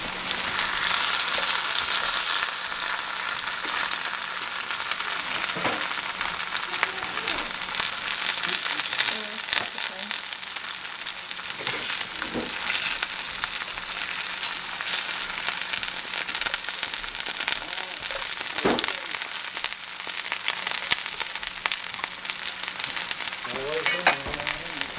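Fried squash sizzles steadily in a pan on a home stove, a dense continuous crackle and hiss lasting throughout with occasional louder pops and stirring clinks.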